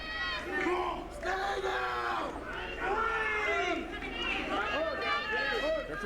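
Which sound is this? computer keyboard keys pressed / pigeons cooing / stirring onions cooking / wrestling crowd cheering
wrestling crowd cheering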